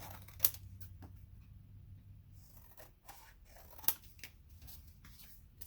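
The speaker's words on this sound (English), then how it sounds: "I'm just going to trim around this." Quiet, close scissor snips trimming around an old greeting card to reuse it for Christmas cards, with soft paper rustling between the cuts.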